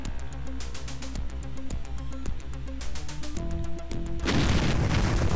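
Missile explosions in the Sega Genesis game The Lost World: Jurassic Park, fired while defending a truck: tonal game music with repeated thumping hits, then a loud, sustained noisy blast near the end.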